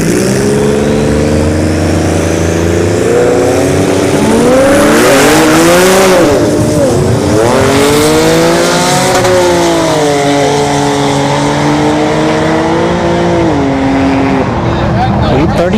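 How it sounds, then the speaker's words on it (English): At a drag strip test-and-tune session, an Infiniti Q50 and a V6 turbo Mustang race. Loud engines roar and rise through overlapping revving sweeps as the cars accelerate, then hold a strong, steady drone. "Q50 here on the right lane and the V6 Turbo Mustang on the left."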